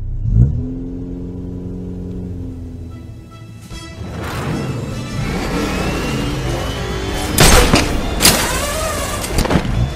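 A truck engine revs hard in a LEGO stop-motion Batman scene, rising from a low idle to a loud, strained roar with a few sharp thumps and bursts near the end, with no talking.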